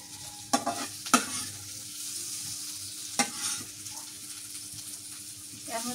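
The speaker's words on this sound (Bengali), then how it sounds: "এর মধ্যে বরবটি আর আলু ভাজি" Long beans and potatoes fry in mustard oil in a pan, a low steady sizzle broken by a few sharp utensil clinks and stirring scrapes, close, with no talk.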